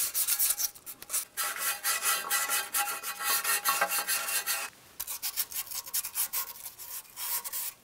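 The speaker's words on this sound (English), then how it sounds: "Now the next thing that we're going to do is clean up the mating surfaces on our exhaust pipes" Steady abrasive scrubbing cleans the flange mating surfaces of exhaust pipes from a 2009-2019 Ford Flex, heard as close, rhythmic rasping strokes that pause briefly and then resume.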